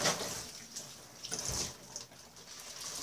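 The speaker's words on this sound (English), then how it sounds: "Wash my hands." Running tap water splashes over hands at a kitchen sink while cooking Alaskan cod, a steady close hiss with brief splashy bursts as the hands move.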